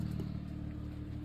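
A BMW N54 engine runs after a rod bearing repair, idling with a steady low hum and no knock, heard close and fairly quiet for a brief stretch.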